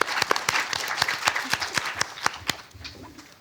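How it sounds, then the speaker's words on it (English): An audience claps in a round of applause at a panel discussion on coded meanings in Hmong art forms, with a dense patter of hands and sharp individual claps that thin out near the end. "If we can give them all another round of applause."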